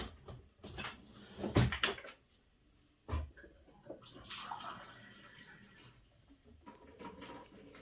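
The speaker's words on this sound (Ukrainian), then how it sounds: "Тому наливаємо водичку." Water poured into a pot of meat for a holiday aspic, a quiet splashing, gurgling pour with a few knocks and clatters of the pot nearby, then softer trickling.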